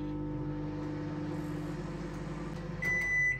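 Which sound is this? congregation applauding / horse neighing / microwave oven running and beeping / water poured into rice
microwave oven running and beeping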